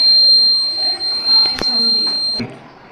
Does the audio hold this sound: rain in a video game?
no